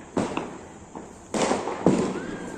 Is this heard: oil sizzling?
no